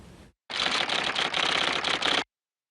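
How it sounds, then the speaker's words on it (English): Typewriters clatter in a busy office, a dense burst of rapid keystrikes lasting under two seconds after a short opening snippet, close and fairly loud, then silence. "The clatter of typewriters in the Bendlerstrasse came to a halt"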